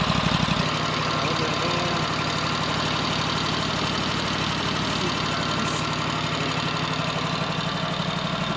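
Wood-Mizer EZ Boardwalk 40 sawmill engine idling with a poorly muffled exhaust, a steady, loud, even rumble holding unchanged throughout after a brief quieter start.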